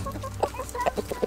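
Chickens cluck in short, close, repeated bursts, a farmyard fowl sound with no other noise over it.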